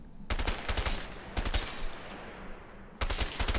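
Rapid automatic gunfire in the video game A Way Out, two loud bursts of closely spaced shots with a rattling, echoing tail between them, heard close and with no talking.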